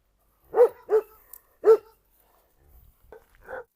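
A Cane Corso gives three loud, close barks in quick succession, then after a pause a couple of quieter, shorter yips or whines follow.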